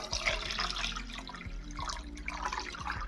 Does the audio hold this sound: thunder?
no